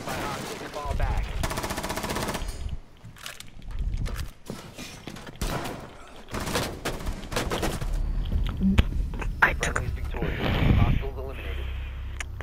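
Rapid bursts of automatic gunfire and single shots from a Rainbow Six Siege match, loud and close, with sharp clusters separated by short gaps, mixed with game effects and footstep-like clatter, and a voice talking over parts of it.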